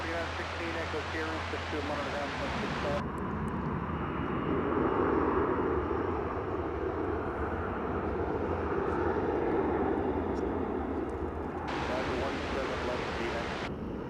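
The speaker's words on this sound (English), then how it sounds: "That's American Eagle Flight 3998 and Embraer 175. It's going to Austin, Texas." An American Eagle Embraer 175 takes off at DFW airport, a broad, steady jet roar that swells gradually and stays under someone talking, with some wind noise.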